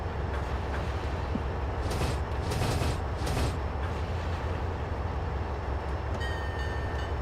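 A Long Island Rail Road M9 commuter train runs steadily on the Bayport Branch, with a continuous low rumble and rolling wheel noise that swells briefly midway, heard from inside the car with no talking.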